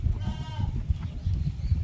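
A goat bleats on a goat breeding farm, a short close call standing out over low rumbling background noise, with no talk.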